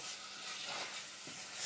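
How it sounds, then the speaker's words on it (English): Diced venison searing in a hot pan, a continuous close hissing sizzle that swells slightly at the end, with no other sounds. "I'm just going to sear the meat."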